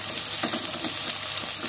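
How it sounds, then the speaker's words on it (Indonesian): Shallots and garlic sautéing in a pan, a close, continuous hissing sizzle with faint crackles and no talk. "Tumis bawang merah putihnya."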